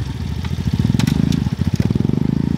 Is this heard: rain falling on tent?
no